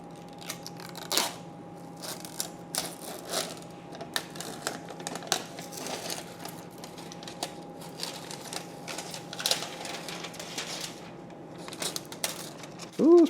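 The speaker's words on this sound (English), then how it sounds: "let me see if we can be able to do a clean peel." Protective plastic film is peeled off an Asus ROG Astral RTX 5090 graphics card, making close, scattered crackles and sharp ticking snaps over quiet room tone, with a louder crinkle at the very end.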